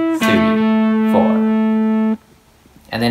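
An electric guitar plays the second post-chorus part of a song, held sustained notes that shift to an A, then cut off briefly before another strummed note enters loud and close.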